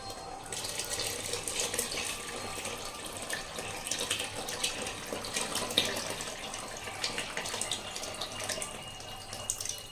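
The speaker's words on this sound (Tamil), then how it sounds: "ஸோ நான் இப்போ புளி பேஸ்ட் ஆட் பண்ணிக்க போகிறேன்." Tamarind paste poured into a pot while cooking a kuzhambu curry with turkey berries, shallots and garlic, a continuous close liquid trickle and splash lasting several seconds without talk.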